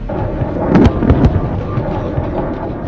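Aerial bombardment during an Indian army exercise at Pokhran, heard as a loud continuous rumble of explosions with a cluster of heavier booms near the middle, dense and distant-sounding throughout.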